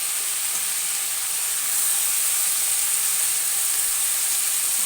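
Chopped vegetables and Malabar spinach fry in a hot pan with a loud, steady sizzle and hiss that swells slightly partway through and carries on without pause, and no one speaks.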